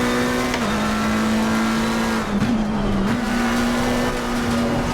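A McLaren 720S GT3 Evo race car in Assetto Corsa Competizione drones loud and steady at high engine revs, with a brief dip and blip partway through as it brakes and downshifts before pulling again.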